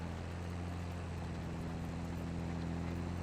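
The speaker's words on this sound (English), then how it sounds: "This tractor gets kind of pulled all over the place with this cultivator." A tractor in Farming Simulator 22 hauls a cultivator, its engine a steady low droning rumble that holds constant and unbroken throughout, with no voices over it.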